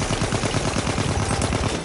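Rapid bursts of automatic gunfire in Battlefield 1, dense and loud, firing continuously with a steady rattling rhythm and no pauses.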